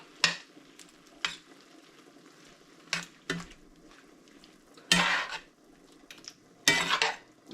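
Chicken browning in a pan for a chicken pot pie, a low steady sizzle punctuated by several loud, close clanks and scrapes of a utensil against the pan at irregular intervals, with no talking.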